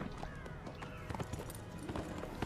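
A horse gallops in the video game Neverwinter, its rapid hoofbeats faint and quick against a noisy game background.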